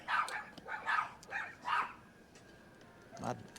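Several dogs barking outdoors near an RV, a run of four evenly spaced barks followed by a pause and one more bark, moderately loud.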